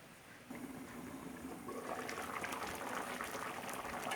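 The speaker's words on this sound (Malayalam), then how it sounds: "അപ്പം നമ്മൾക്കിതൊന്ന് നന്നായിട്ടൊന്ന് തിളച്ച് വരട്ടെ" Homestyle brinjal curry simmers in a pot, a soft continuous bubbling that grows slightly louder and busier after a moment, faint and close.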